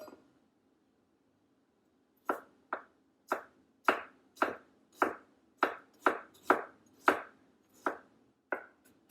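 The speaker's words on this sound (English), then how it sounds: "You can just mince it with a knife." Garlic minced with a knife on a cutting board: after two seconds of quiet, a dozen crisp, fairly regular chops land close and clear, with no talking.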